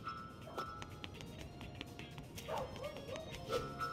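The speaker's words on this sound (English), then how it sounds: "Dog." In the video game Sonic Unleashed, a dog gives a few quiet barks and yips, with faint whimpering behind them.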